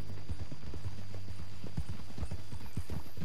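Horse hooves clip-clop in a steady walking rhythm in the Red Dead Redemption 2 video game, close and clear over a faint background tone.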